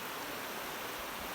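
A small creek beside a riverside wooden step in the Chinese countryside makes a soft, even rush of flowing water that runs steadily throughout, faint and without voices.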